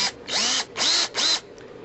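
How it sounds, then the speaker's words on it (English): A power drill bores shallow screw holes into plywood on a jon boat project, three close, loud whining bursts with brief pauses between them. "drill out for the screws just a little bit, just nibble in the wood some"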